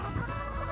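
Chickens on a family farm cluck right at someone's feet while being fed. Dense, close, overlapping clucks fill a busy outdoor scene with no pauses.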